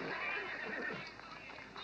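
Horses neigh and whinny in a period film scene being led to a race starting point, a continuous hoarse, strained call carried steadily through the moment at moderate distance, with a faint voice underneath.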